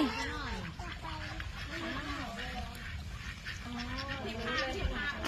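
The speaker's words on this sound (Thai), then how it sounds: "ดูเป็ดดูเป็ดดูเป็ดเล่นน้ำเป็ดเล่นน้ำให้เราดู" Ducks and geese honk and quack repeatedly in a lively flock splashing in water, with people chatting over the birds and steady outdoor background noise.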